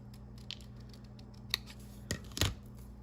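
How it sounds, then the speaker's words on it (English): Scissors snip the strings off a small paper doll apron, a few quiet, crisp cuts spaced irregularly, with the last two snips closer together, faint and close in a quiet room. "I'm going to cut off the strings."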